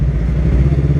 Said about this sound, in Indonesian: Punya motor terus pakai muffler yang gede-gede gini, emang jadi malah sering bikin jebreng-jebreng gitu lah